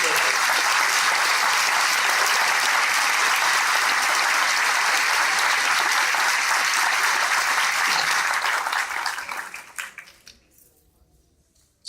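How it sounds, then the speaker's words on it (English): Large crowd applause at an Army basic training graduation ceremony, a dense, steady wash of clapping for about ten seconds that then fades out to near silence. "Ladies and gentlemen, please join me in a round of applause"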